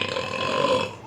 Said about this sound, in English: I got burp.